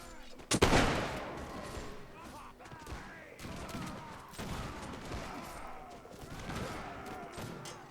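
Musket and pistol fire in a Mount & Blade Warband battle, opening with one sharp close shot followed by scattered volleys and thuds in a noisy melee, with voices throughout.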